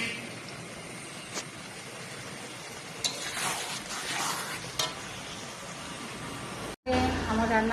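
Spicy red chicken fries in a pan in a small hotel kitchen, a steady close sizzle with stirring scrapes and a few clanks, cut off near the end by a brief silence before a louder, different sound.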